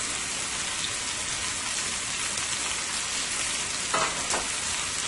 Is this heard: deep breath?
no